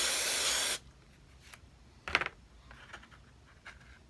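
Carburetor cleaner hisses in a single loud, steady spray for under a second onto the dirty carburetor of a Stihl MS 250 chainsaw, followed by quiet handling clicks and a short rattle of parts.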